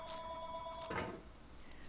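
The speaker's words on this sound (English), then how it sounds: "I have to answer the phone" A desk or landline telephone rings in a room: one clear electronic ring burst followed by a quieter tail, moderately close, with no talking.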